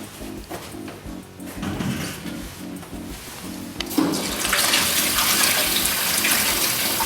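Running tap water pours over brined cabbage being rinsed for kimchi, starting as a gentle splashing stream and then surging into a louder, steady gush in a kitchen.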